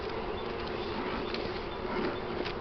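Honeybees buzzing around a newly split hive, a dense steady hum of many insects close by with no talk.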